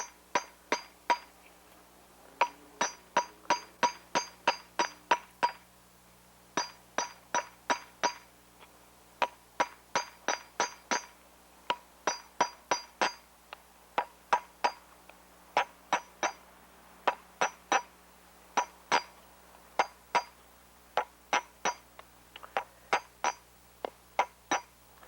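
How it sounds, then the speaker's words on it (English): A hammer strikes a steel rod to sharpen its point, bright ringing metallic clinks coming in quick rhythmic bursts of several blows, each burst separated by short pauses, close and clear, with no talking. "putting the point down and just hammering it"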